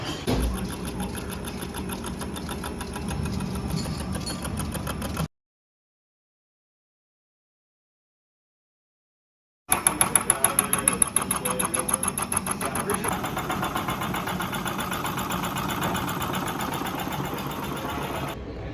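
A milling machine cutting slots into the steel body of a homemade electromagnetic vise, a steady buzzing motor whine with a continuous cutting chatter, broken by a silent gap before resuming louder.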